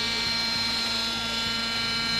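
A radio-controlled helicopter hovers at steady power, a constant high whine from the rotor and motor with a low rhythmic blade pulse underneath, close and loud throughout.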